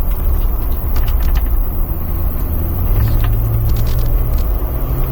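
A Jeep Wrangler JL corners hard at about 60 km/h, with a steady interior road rumble and engine drone heard from inside the cabin and a faint rising note as it pushes through the bends.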